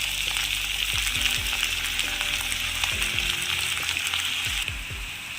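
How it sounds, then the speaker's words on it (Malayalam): Native brinjal drops into hot coconut oil and fries with a loud, continuous hissing sizzle, with a few low thuds as pieces hit the pan and a slight easing of the sizzle toward the end. "വെളിച്ചെണ്ണ നന്നായിട്ട് ചൂടായിട്ടുണ്ട്. നമ്മുടെ വഴുതനങ്ങ നമുക്ക് ഇട്ട് കൊടുക്കാം."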